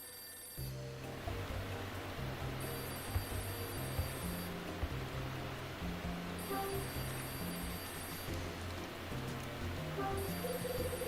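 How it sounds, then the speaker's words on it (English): Telephone ringing in the Hotel Dusk: Room 215 video game, sounding in repeated electronic ring bursts over steady background game music. "The phone's ringing."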